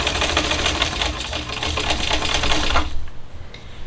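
A sewing machine stitching fabric around a curve runs in a fast, continuous mechanical whir up close, then stops abruptly near the end, leaving quiet room sound.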